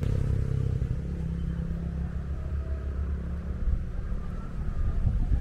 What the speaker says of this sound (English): So we'll let this motorcycle pass